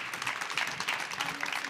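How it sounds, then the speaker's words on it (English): A short, fairly quiet burst of audience applause during a leadership communication talk, a steady patter of many hands clapping for a participant, without clear speech over it. "a little round of applause for Tanya here"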